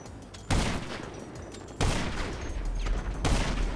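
Grenades fire and explode in a video game shooter: three sharp, loud blasts come at irregular intervals, each trailing into a rumbling wash over constant background game noise.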